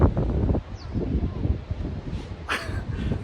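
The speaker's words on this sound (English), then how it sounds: "It's really windy today." Gusty wind blows outdoors in a garden beside a new home, a low rumbling buffet against the microphone that swells and fades throughout, with faint rustling and a brief higher whoosh near the end.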